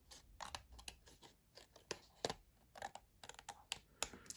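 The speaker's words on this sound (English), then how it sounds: "I'm just going to turn this over and trim these off." Scissors trim the edges of card paper in a run of short, quiet snips and crisp clicks, close and irregular, with brief pauses between cuts.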